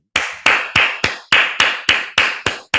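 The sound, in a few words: hand clapping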